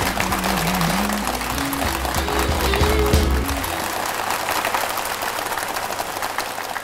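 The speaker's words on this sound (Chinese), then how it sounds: "行行，掌声欢迎。" Applause from a studio audience on a Chinese health talk show greets a performer who is about to sing, a dense, steady clatter of clapping lasting throughout, with a faint musical tone underneath at the start.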